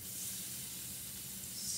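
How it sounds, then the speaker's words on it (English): Fish sizzles in a hot frying pan with a constant, crackling hiss that stays fairly even throughout, with no voices. "Listen to that sizzle"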